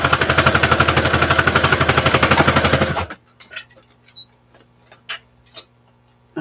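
A sewing machine stitching, a loud, fast, steady mechanical rattle of needle strokes for about three seconds that stops abruptly, leaving faint clicks and a low hum.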